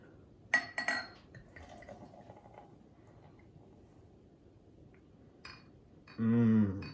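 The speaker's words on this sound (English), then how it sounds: "Open up the cream soda. Pour this bad boy in." A can of cream soda clinks and is opened, then after quiet handling the soda pours into a glass near the end, a brief loud bubbling gush, close with no voice.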